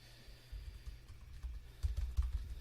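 Keys clattering on a computer keyboard as an email script is typed out, a quick irregular run of soft clicks and taps, close and fairly quiet, growing busier toward the end with no talking.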